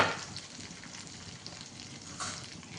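Food fries in hot oil in a home kitchen, a soft, even sizzle with faint crackles throughout, fairly quiet and close, with no talking.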